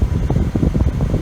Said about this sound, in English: Oh my god, the aircon is cold as hell.